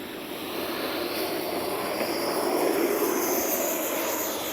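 An FMS Avanti S 90mm electric-ducted-fan RC jet takes off with flaps set, giving a steady, loud rushing whine with a broad airy roar that swells slightly, heard without talk.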